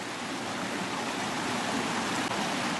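Broad, steady roar of rushing water at the head of a big waterfall in an alpine setting during a summer heli-hiking trip, filling the scene continuously without voices.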